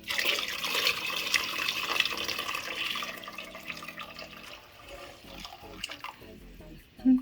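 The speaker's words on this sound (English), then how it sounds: "I added probably about 4 cups of broth" Broth poured into a chowder pot makes a steady splashing pour that tapers off over several seconds, with faint clatter near the end.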